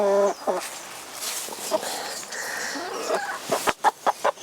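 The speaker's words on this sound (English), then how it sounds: "And I want to catch a chicken." A pet hen clucks and squawks close up as she is lifted and held, her calls breaking into short sharp bursts near the end.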